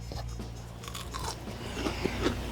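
Cooked Costco pork loin bitten with a few crisp crunches, close and fairly quiet, followed by soft chewing with no talk.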